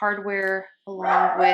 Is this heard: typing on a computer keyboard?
no